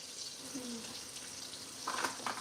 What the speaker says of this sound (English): We'll let that simmer for just a second